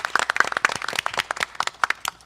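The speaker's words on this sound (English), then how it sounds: "let's give a round of applause for Ms. Perry Palermo" A small audience at an autism family forum claps for a speaker in quick, separate, close-up claps that fade after about two seconds.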